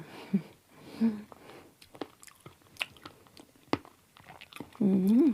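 Prickly pear cactus fruit is bitten and chewed up close, with crisp crunches from the seeds and soft wet squishes in an irregular rhythm, and a voice murmurs briefly near the start and end.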